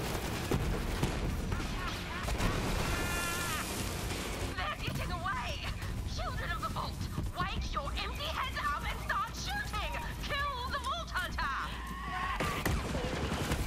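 Legendary acid SMG firing in the Borderlands 3 video game, rapid repeated gunfire bursts with impacts and effects under people talking throughout.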